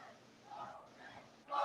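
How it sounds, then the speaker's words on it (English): A wrestling crowd at a watch-party broadcast rises in a muffled, distant roar, swelling briefly midway and then surging louder at the end. "Crowd coming alive for the Devil's favorite dealer"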